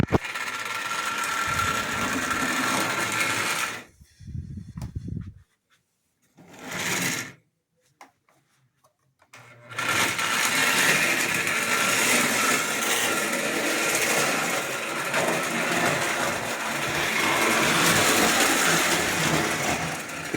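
A pre-war Ives toy electric locomotive with an S-type motor runs along its track with a steady, close whirring mechanical buzz, pausing twice mid-run before resuming and continuing evenly to the end.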